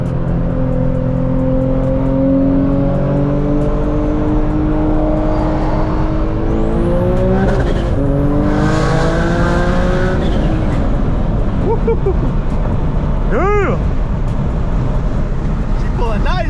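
An 800 hp turbocharged Infiniti G37 accelerates hard on a freeway, its loud engine note climbing steadily through the gears, with a high turbo whistle sweeping over the roar and voices underneath.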